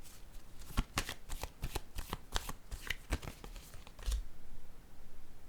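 A deck of tarot-style cards being shuffled for a card reading, with a quick run of crisp riffling snaps close by and then a soft settling rustle.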